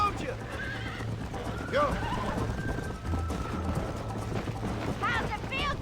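A horse in the video game Red Dead Redemption whinnies and gallops with steady clip-clop hoofbeats under continuous game music and effects, while a voice shouts briefly.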